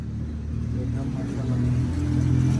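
A passenger van's engine idles with a steady low rumble and mild revving, close by and continuous, with someone talking over it.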